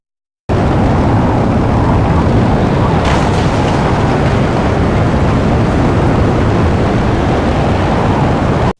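Designed meteorite sound effect built from layered rumbling: a dense, continuous roar that holds steady for about eight seconds, with a brief crackling burst near the middle.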